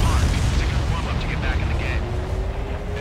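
Deep rumbling blast of an enemy anti-air defense destroyed in Ace Combat 7, a heavy low roar that swells and slowly fades, with a faint rising engine whine and radio voices talking over it.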